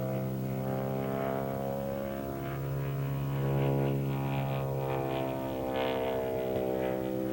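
An aerobatic airplane's engine runs under power through a maneuver, giving a loud, sustained droning roar that swells and wavers slightly, heard alone without any voice.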